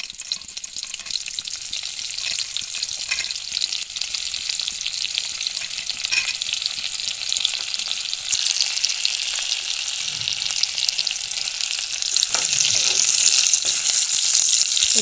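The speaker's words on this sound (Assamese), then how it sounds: "তেলখিনি অকণমান গৰম হোৱাৰ পিছতে দিছোঁ পিঁয়াজ।" Chopped onion fries in hot mustard oil with a loud, steady sizzle and occasional stirring, the hiss growing denser toward the end.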